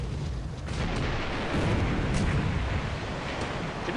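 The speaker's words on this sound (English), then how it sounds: "Did we just have a magazine explosion on the Van Ness?" Heavy rumbling explosion and battle noise from a naval warship game set in the Pacific war of January 1942, a magazine blast aboard a burning ship amid gunfire, loud and sustained throughout.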